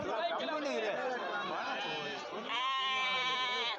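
Sheep lambs bleat repeatedly at a busy goat market, their cries overlapping with the chatter of a crowd of traders close by.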